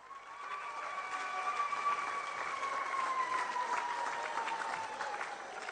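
Steady audience applause fills a large hall at a French political gathering, sustained and fairly even throughout, with a faint tonal hum running beneath the clapping.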